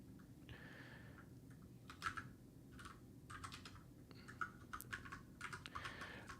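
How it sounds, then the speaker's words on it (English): Typing on a QWERTY computer keyboard, with irregular bursts of key clicks at varied speed over a steady low background hum, fairly quiet and close, with no voices. "I often have to slow down to make sure I'm typing correctly"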